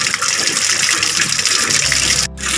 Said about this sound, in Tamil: மண்ணெல்லாம் இருக்கிற தண்ணி தான் இப்படி கீழே போயிடும்.